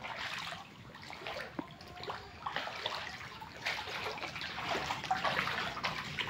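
Floodwater rushes and trickles into a house past a doorway partly blocked to hold it back, a steady rippling wash of water that swells and eases throughout, with no voices.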